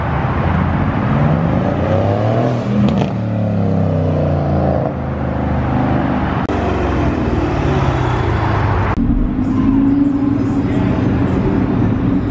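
Supercars roll out of a parking garage during a car show. Their engines rumble and rise as they accelerate past, one after another, echoing loudly off the concrete interior, with an occasional voice in the background.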